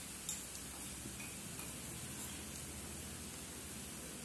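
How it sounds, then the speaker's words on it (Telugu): Onion, ginger and garlic frying in oil in a pan, making a steady hissing sizzle with faint occasional ticks, continuous and close. "ఈ అల్లం వెల్లుల్లి కూడా ఆనియన్తో పాటు పచ్చి వాసన పోయేంత వరకు వేపుకుందాం."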